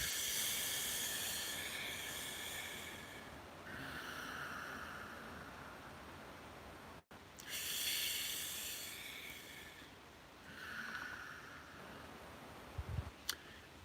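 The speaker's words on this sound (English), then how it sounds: "Is a long, deep breath and very slow." Long, slow, deep breathing during meditation: two drawn-out, hissing inhale-exhale cycles, each lasting several seconds, close and soft, with a brief click near the end.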